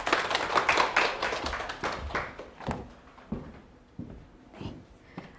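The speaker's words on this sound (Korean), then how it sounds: "박수 한번 드리겠습니다" An audience at an exam-strategy seminar claps for an invited speaker, a burst of applause that is loud at first and then thins out into scattered claps.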